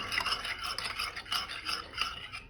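A spoon stirs ragi powder into a drink with quick, repeated scraping strokes against the inside of a cup, close and fairly soft.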